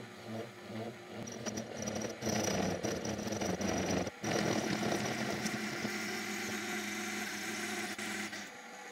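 Steady, loud machining noise with a dense grinding whine as an annular cutter on a mini mill bores through aluminium, continuous apart from one brief dip midway.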